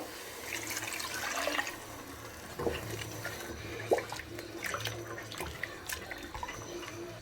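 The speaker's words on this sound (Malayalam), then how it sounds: "ഇതിലേക്ക് നമ്മൾ വെള്ളം കൂടി ഇതിലേക്ക് ഒഴിച്ച് കൊടുക്കുന്നു" Water pours and splashes into a cooking pan while making thikkadi, fairly quiet and uneven, with a few small clinks and drips along the way.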